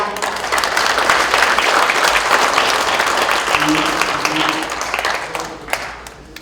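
An audience claps loudly and continuously, the applause fading slightly toward the end.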